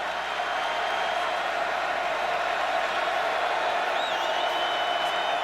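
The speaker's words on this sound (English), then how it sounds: "Kansas asking for the crowd to get loud." A college football stadium crowd at Kansas, with TCU visiting in 2012, makes a steady, broad roar that stays even throughout, with a brief whistle-like tone near the end.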